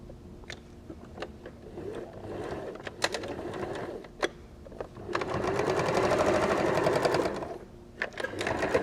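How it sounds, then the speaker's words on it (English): A sewing machine stitches down a fabric flap for a microwave potato bag: scattered clicks and short handling taps first, then a sustained, close, rapid mechanical run of stitching lasting a couple of seconds before more clicks. "And we're going to sew down from the 5mm mark on both sides to make the flap."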